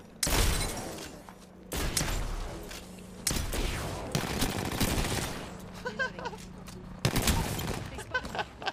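Bursts of automatic gunfire in the video game Apex Legends, loud rapid volleys recurring through the stretch with short gaps, mixed with game effects and some voice chatter.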